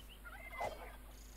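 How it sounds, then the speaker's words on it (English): A turkey in Minecraft's RLCraft modpack lets out a single short gobble, faint and warbling, with a quiet ambient hum underneath and no talking. "oh, there's turkeys"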